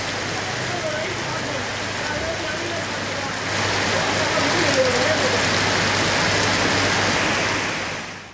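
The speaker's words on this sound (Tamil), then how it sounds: "தொடர்ந்து அரை மணி நேரமாக பெய்து வரும் மழையின் காரணமாக மதுரை மாநகரமே இருளில் மூழ்கி இருக்கின்றது" Steady, heavy rain falls across the city of Madurai after half an hour of continuous downpour, a dense, even hiss throughout that grows slightly louder midway.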